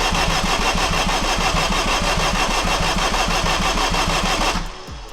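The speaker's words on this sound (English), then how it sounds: "as soon as I start cranking it for a while, it's like it loses its battery voltage" An Acura RSX engine cranks without catching, a loud, steady rhythmic churn of the starter that runs for several seconds before cutting off abruptly near the end.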